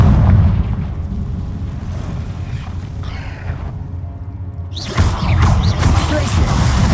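A Confringo spell explodes inside a cave in Hogwarts Legacy with deep, rumbling booms, then a long roaring decay and a second burst near the end. A voice calls out over the blasts.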